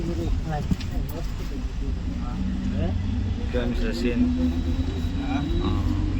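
A bus travelling by road toward Jasdan, its engine giving a steady low rumble throughout, with people talking over the noise.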